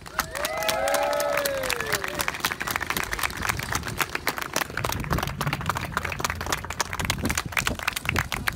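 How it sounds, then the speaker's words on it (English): Outdoor May Day rally crowd in Edinburgh breaks into sustained clapping, a dense patter of many hands at moderate distance, with a few whistles and cheers near the start. "Please give these brothers and sisters a round of applause."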